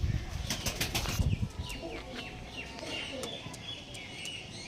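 Tournament-bred pigeons beat their wings in a burst of rapid, close flapping that fades into softer rustles, with faint chirps and coos around them.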